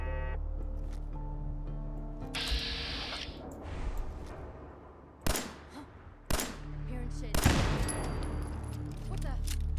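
Turrets in Fallout 4 letting off bursts of gunfire, with several sharp, loud shots and rattling volleys over continuous game noise and background music, while a voice talks.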